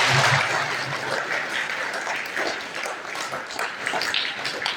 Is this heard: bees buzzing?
no